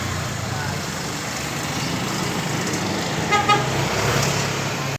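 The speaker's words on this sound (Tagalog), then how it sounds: "Tabi nga lang pala tayo ng highway kaya maingay oh." Steady loud roadside traffic roar with vehicles passing, and a brief car horn toot midway.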